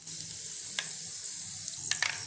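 Tempering spices of chana dal, urad dal, mustard seeds and cumin fry in hot oil for a bitter gourd fry, giving a steady close hiss and sizzle with a few small crackles and pops.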